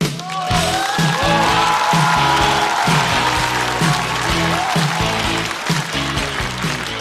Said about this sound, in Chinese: 掌声欢迎小帕